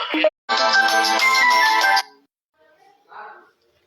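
A phone ringtone for an incoming call plays loud and close as a bright electronic melody for about a second and a half, after a short opening blip, followed by faint trailing sounds.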